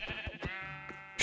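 Sheep bleating in the Minecraft video game, several short wavering bleats in quick succession, fairly loud and close, with no talk over them.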